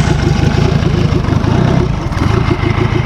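Buggy engine idling loud and close as it warms up on a frosty morning, a steady rumbling chug with an even pulse throughout.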